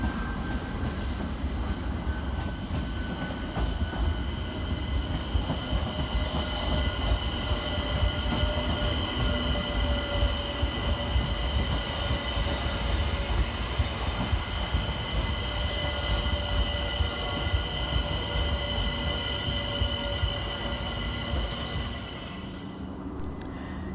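London Overground Class 378 electric train at Clapham Junction station, a steady rumble of wheels and motors with faint squeals and tonal whine, continuous and fairly close throughout, without talk.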